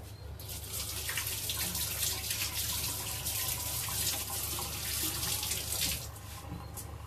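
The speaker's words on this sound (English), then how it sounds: "Let me just wash my hands a second." Hands are washed under a running kitchen tap, the water hissing in a steady, close, continuous stream with soft splashing that eases slightly near the end.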